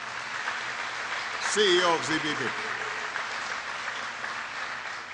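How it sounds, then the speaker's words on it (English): Audience applause at a clean-energy jobs event, a broad steady wash of clapping that swells briefly in the middle while someone speaks over it. "a big round of applause"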